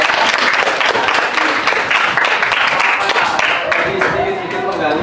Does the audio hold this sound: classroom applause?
yes